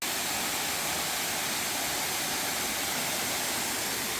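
Steady, full broadband roar of Upper Piney Falls waterfall in summer, constant and unbroken, as if heard from a rocky shelf close to the falling water.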